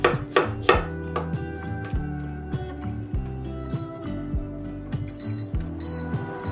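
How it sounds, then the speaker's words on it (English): Knife chopping strawberries on a cutting board for a strawberry balsamic compote: steady, close, rhythmic knocks of the blade against the board, moderately loud with no talking. "So we're just going to hack up a bunch of strawberries."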